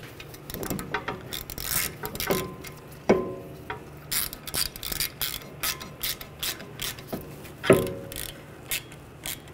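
A ratchet clicks in short bursts while a screw is started into the threaded hole of a BMW 550i front brake rotor, with several louder clacks and brief pauses between strokes, close up in a quiet garage.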